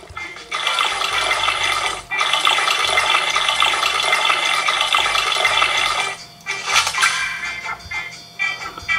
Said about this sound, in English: Let's water it